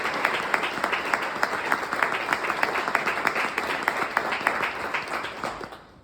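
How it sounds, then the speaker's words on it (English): Warm round of applause from a gathered crowd, many hands clapping in a steady dense patter, loud and close, tapering off near the end. "just give them a warm round of applause"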